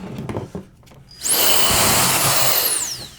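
Nearby, a small turbo blower spins up with a rising whine into a loud, steady rush of air as it blasts an object off a desk, then the pitch falls away as it winds down.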